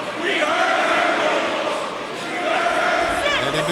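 Wrestling arena crowd roaring in a dense, continuous wash of cheers and shouts, dipping briefly before swelling again.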